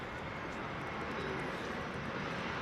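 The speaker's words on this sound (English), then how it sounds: "But we're hearing those planes land." A plane comes in to land at an airport in Queens, New York, making a steady, broad jet roar that stays at an even level throughout, with faint talk in the background.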